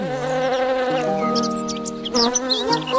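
A steady, close buzzing drone, like a bee's wings, holds its pitch with small shifts and wavers near the end.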